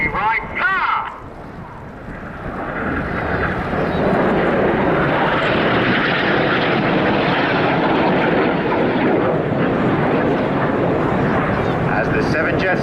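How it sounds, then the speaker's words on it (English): Aerobatic display jets, a seven-jet formation at the Fairford airshow, build from a brief burst into a loud, sustained broadband roar that fills most of the clip, with indistinct voices faintly mixed in. "The jet's about to split into a huge palm with the synchro pair staying low."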